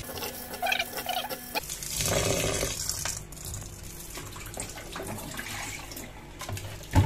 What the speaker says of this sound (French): C'est très important de bien nettoyer son riz.